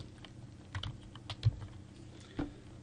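Someone types a username on a computer keyboard: a short, quiet run of scattered key clicks, sparse and irregular, with a few louder taps standing out.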